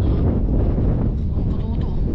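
Strong wind buffets the microphone outdoors near the water, a steady, loud low roar with no breaks.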